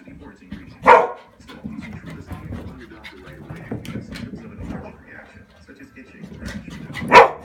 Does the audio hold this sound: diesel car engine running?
no